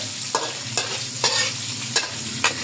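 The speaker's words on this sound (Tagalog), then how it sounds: "Naglagay lang ako ng konting sweetie oil para maganda yung kulay natin. Ayan na, maganda na. Unahin natin silang gisa." Hungarian sausage sautés in oil in a pan, a steady close sizzle broken by four regular stirring scrapes spaced about half a second apart.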